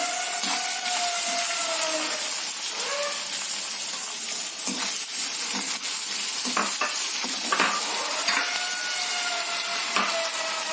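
Onion pieces sizzling in a hot oil tempering with cashews for idli pulihora, a continuous crackle under repeated scraping and clinking of a stirring spoon against the pan, with no voices.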